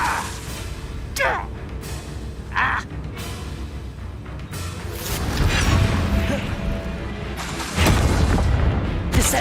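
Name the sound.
Descendo spell slamming an enemy in Hogwarts Legacy video game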